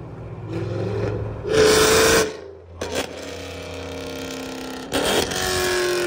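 A 900-horsepower Dodge Hellcat idles with a throaty exhaust rumble, then revs up hard twice in short bursts before settling back to a steady idle.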